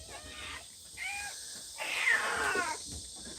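Outdoors on a property with many cats, a few meows and a rising, strained yowl sound out at close range over a low background hiss.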